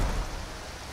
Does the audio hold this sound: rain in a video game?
yes